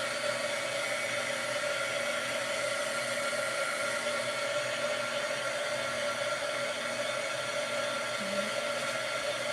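A hair dryer blows steadily and loudly over a fresh layer of Mod Podge on a Dollar Tree Christmas craft, a constant close whir that holds unbroken with no pauses.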